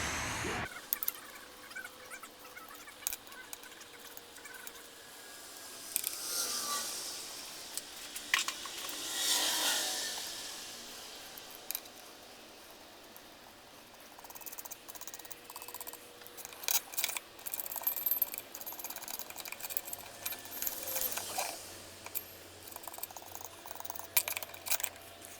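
A case separator tool works on a Honda Grom engine case, giving off quiet mechanical clicks, creaks and scraping metal rubs at close range, with a few louder rasping passes and no speech.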